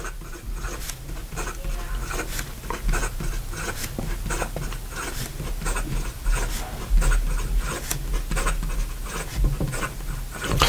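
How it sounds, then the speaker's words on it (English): An Esterbrook Estie fountain pen scratching rapidly across paper in fast strokes, close and continuous with a dry, rasping texture and rhythmic bursts. "In regard to some fast writing"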